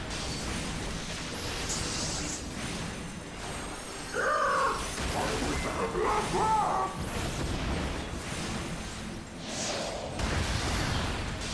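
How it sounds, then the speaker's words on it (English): A bird in Final Fantasy XIV squawks and caws in a few harsh, raspy bursts, spread across a busy stretch of game sound with music and effects behind them. "shut up already, you blasted bird!"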